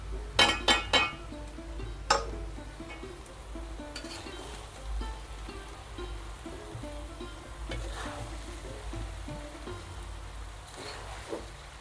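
Coconut rice is mixed in a pot: a quick run of bright metal clinks from a spoon at the start, then softer scraping and light sizzling with occasional taps, fairly quiet.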